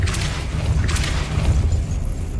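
Spell impact from the Depulso charm cast in Hogwarts Legacy, a sustained rumbling low boom with two bright bursts of crackling energy over a steady game soundscape.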